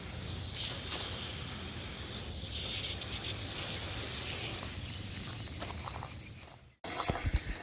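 Water pours steadily onto a raised garden bed planted with tomatoes, a continuous broad splashing and hissing gush that runs for several seconds, then cuts off abruptly and ends with a few close clattering handling sounds.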